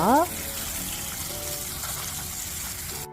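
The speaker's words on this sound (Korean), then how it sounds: "흐르는 물에 씻어 물기를 꼭 제거해 주세요." Tap water runs steadily over spring cabbage leaves being washed for a vegan salad, a close, continuous broadband rush lasting throughout, with a brief tonal whine at the start and an abrupt cutoff at the end.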